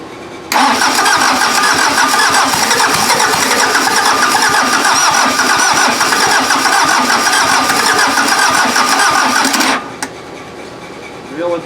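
A VW diesel engine swapped into an offroad Mazda cranks over on a weak starter, a loud rapid rhythmic churning that runs for about nine seconds without catching, then stops abruptly.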